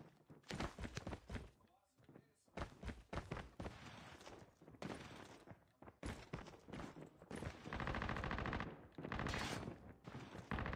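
Gunfire in Call of Duty Mobile, bursts of rapid shots and single cracks in uneven clusters, moderately close, with a voice talking over the gameplay at times.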